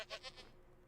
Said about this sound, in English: Got some goats here.